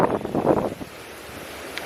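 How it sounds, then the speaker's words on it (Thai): Strong wind gusts over water at a snakehead fishing spot, a loud buffeting rush at first that drops to a quieter steady hiss. "โอ้ลมแรงครับวันนี้"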